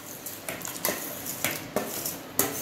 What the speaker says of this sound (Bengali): এবার আমি গোবিন্দভোগ চালগুলো ধুয়ে রেখেছি সেগুলো আমি দিয়ে দেব